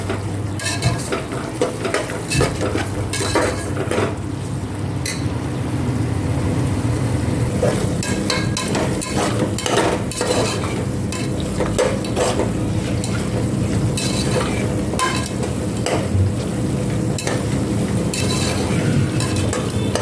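Onions and tomatoes sauté in a pan for chicken biryani while being stirred, giving a steady close sizzle with frequent scraping and clinks of a spoon against the pan, continuous throughout with no talking.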